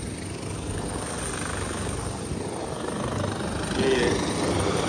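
Helicopter rotor thrum, a steady broadband whir that grows slightly louder toward the end.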